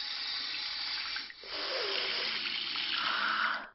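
Tap water pours steadily into a sink as blood is washed off hands, a close, continuous splashing rush that dips briefly and then resumes before cutting off.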